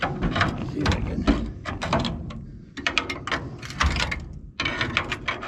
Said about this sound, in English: Let me try and pry the rest of this off, see what we got.